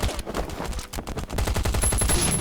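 Rapid automatic gunfire in the survival game Last Island of Survival as a player shoots at dragons, heard as a dense, loud, continuous burst of shots without pause.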